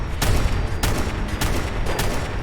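Fallout 4's Peppermill Crank Gun firing in VATS, a few heavy, evenly spaced gunshot bursts over a thick wash of in-game noise.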